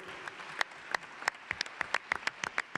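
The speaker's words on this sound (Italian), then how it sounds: "Un applauso." An audience applauds at the presentation of Milano Wine Week 2021 at Palazzo Reale in Milan. The sparse, fairly quiet hand claps come close together and stand alone with no talk.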